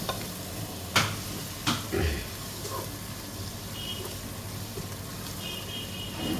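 Cinnamon, cardamom and cloves sauté in oil for Ambur chicken biryani, an even close sizzle with a few louder spoon knocks early on and a faint tonal beep in the background.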